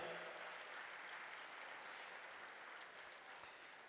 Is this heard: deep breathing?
no